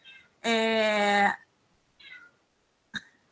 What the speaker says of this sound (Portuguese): minha gata tá enlouquecida, não sei se vocês estão escutando isso